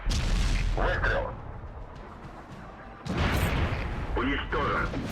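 Tank cannon shots in World of Tanks on Xbox One, with the Soviet Potemkin, two loud booming blasts about three seconds apart, each with a rumbling tail, under radio-style crew callouts.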